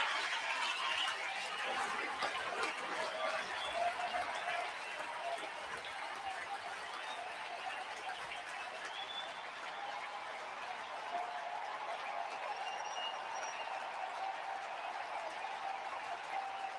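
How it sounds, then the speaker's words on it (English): A baseball stadium crowd applauds a pitcher in a tied 1-1 game, a steady, dense wash of clapping and cheering that holds at an even level throughout, with scattered shouts and whistles mixed in. "listen to the crowd applaud Cristopher Sanchez here in a 1-1 game."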